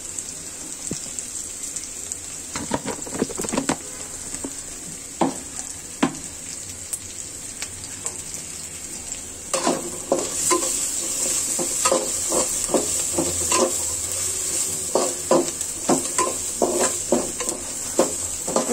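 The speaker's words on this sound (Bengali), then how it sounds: "ভেজে নিচ্ছি। আমি এখন এতে হলুদের গুঁড়া দিয়ে দিচ্ছি একটু।" Dried loitta fish frying in a pan with turmeric and chili, stirred now and then: a continuous hiss of frying with irregular clinks and scrapes of a spoon, growing busier and louder in the second half, no speech.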